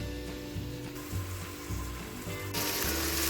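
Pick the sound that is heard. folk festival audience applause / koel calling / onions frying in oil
onions frying in oil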